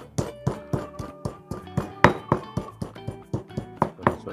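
Fresh chillies, about fifteen of them, pounded with a pestle in a mortar: a steady series of dull knocking thuds with slight clinks, roughly two strikes a second, close and fairly loud with no talking.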